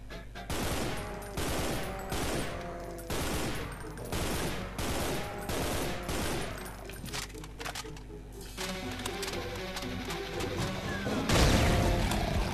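Rapid bursts of gunfire from the video game Brutal Doom 2 hammer out in loud repeated volleys, broken by crashes and booms, with a heavy impact blast toward the end.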